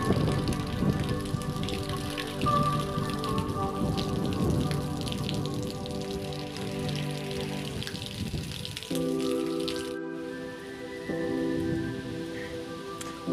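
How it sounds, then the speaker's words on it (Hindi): Light rain falling in a village, a steady soft patter of drops on surfaces close by, continuous with a low background hum and no talking. "देख सकते हो थोड़ी थोड़ी बारिश भी शुरू हो गई है"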